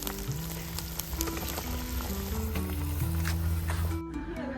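Potatoes with river mussel vegetables cook in a curry gravy, giving a steady close sizzle and bubbling that runs throughout, with a few clinks and faint voices in the background.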